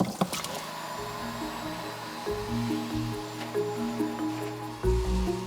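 Cassava pieces being washed by hand in a basin of water, with steady wet sloshing and squishing close by, occasional splashes, and low background noise throughout.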